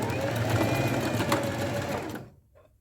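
A sewing machine stitches a pleated skirt in a fast, steady whirring run, loud and close, then slows and stops near the end.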